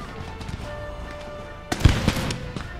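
Musket volley in Empire Total War, a ragged burst of several sharp cracks in close succession after a low battlefield rumble, moderately loud.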